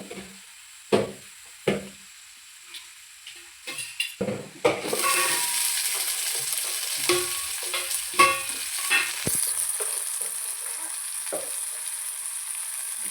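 Tomatoes go into onions already browning in a pan for homemade pasta: a few sharp clatters of a spoon on the pan, then a bright, steady sizzle that swells and holds, broken by scraping stirs.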